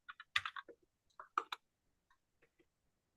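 Keys clatter on a computer keyboard in a sewing and quilting room, a quick burst of close clicks followed by a second cluster, then a few sparse, softer taps trailing off into quiet.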